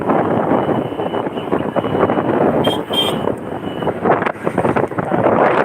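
Steady, loud wind buffets a phone microphone during a motorbike ride along a rough rural road through the Hooghly farmland toward Kamarpukur. The roar is continuous and close with engine and road rumble beneath.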